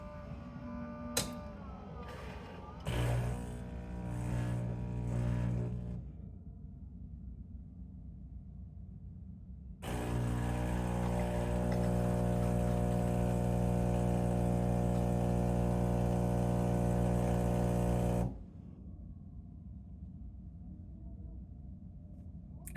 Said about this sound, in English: That sound you're hearing is the Saeco Royal tamping.